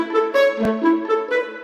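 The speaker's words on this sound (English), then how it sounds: "The cello's playing the same thing." Cello playing a short melodic line with bowed, sustained notes that glide between pitches, up close and alone, with a single sharp percussive click midway.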